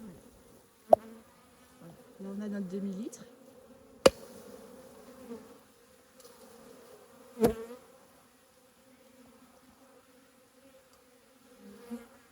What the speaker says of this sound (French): des abeilles un petit peu susceptibles là quand même